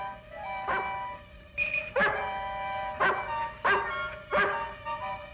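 A dog barks repeatedly in a string of five or so yips and bow-wows, moderately close and fairly even in spacing, with no talking.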